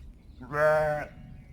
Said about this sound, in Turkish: koyunların kuzuların buluştuğu an